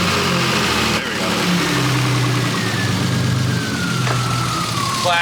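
An older car restarted after sitting a year rumbles steadily at close range, its engine running with a light, rapid lifter tick throughout and brief pitch rises as it revs.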